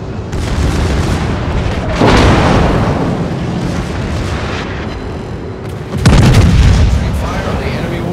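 Naval guns of the Tirpitz battleship in World of Warships thunder in two loud, close salvos a few seconds apart, each a sharp blast followed by a rolling low rumble over constant engine and sea noise.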